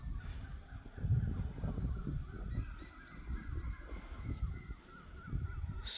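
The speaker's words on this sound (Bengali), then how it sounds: "মোরগের আওয়াজ শোনা যাচ্ছে, অনেক পাখির আওয়াজ শোনা যাচ্ছে।" Roosters crowing and many birds calling around sunrise on a tropical island, a steady outdoor chorus of overlapping calls and caws at moderate distance, continuous throughout with no talking.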